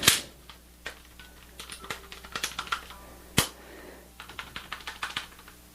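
A FAB Defense AR rifle buttstock being shaken close by, producing irregular sharp plastic clicks and rattling knocks with a few louder clacks and no speech.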